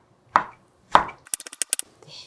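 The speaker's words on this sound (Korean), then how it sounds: "홍고추를 한 반 개만 쫑쫑 썰어서 넣어줄게요" Half a red chili pepper being finely chopped with a knife on a cutting board, starting with two separate firm knocks followed by a quick run of about six light, rhythmic taps, close and clear with no talking.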